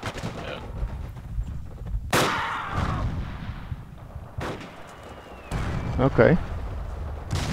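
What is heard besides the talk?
gunfire from roof, from video game Forgotten Hope 2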